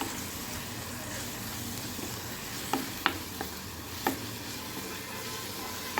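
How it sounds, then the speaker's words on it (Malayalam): Dal and fenugreek leaves with turmeric and chili powder being stirred in a pan, a soft continuous sizzle with a few sharp scrapes and clicks of the spoon against the pot. "എന്നിട്ട് ഇതിട്ടിട്ട് നന്നായിട്ടൊന്ന് ഇളക്കുക."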